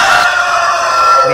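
Backyard hens and roosters cluck and crow loudly up close in a short burst of continuous fowl calls.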